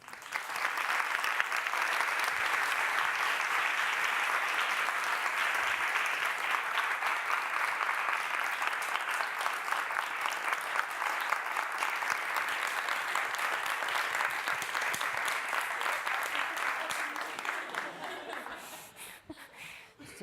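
Sustained applause from an academic lecture audience after a talk on microbial virulence: a broad, even roar of clapping that holds steady for about seventeen seconds, with a few chuckles, before it tapers off and dies away.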